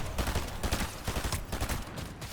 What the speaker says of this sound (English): So that's with the SMG.